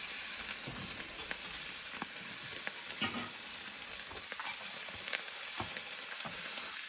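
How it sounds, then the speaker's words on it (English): Hamburger patties sear on the grill of a Weber kettle barbecue, giving a steady, close sizzle and crackle with scattered sharp pops and ticks throughout, and no voices. "Oh, what beautiful searing."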